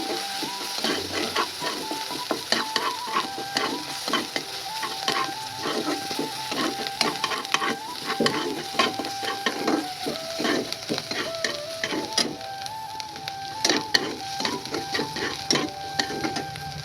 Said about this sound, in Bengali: পেঁয়াজটাকে আমি একটু তাড়াতাড়ি কালার করে নিচ্ছি